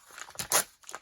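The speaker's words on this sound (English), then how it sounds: "I like to tear the perforation" Perforated brown packaging paper tears in a few quick, crisp rips, the loudest in the middle, close and alone.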